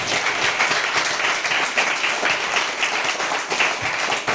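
A church congregation in Bobo applauds the Lord, dense sustained clapping filling the room steadily for several seconds with no talk over it.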